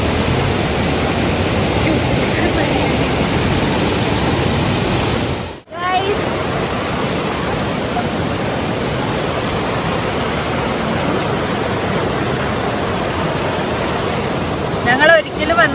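Rushing river water at Vadattupara, swollen after heavy rain, gives a loud, steady roar throughout, cut by one brief dropout midway before the torrent resumes.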